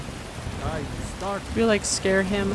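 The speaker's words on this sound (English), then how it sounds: "I can like barely hear this guy because the fucking rain is so loud" Heavy rain hisses loudly and steadily in the fantasy game Skyrim, a constant wash of noise under a voice speaking a short line.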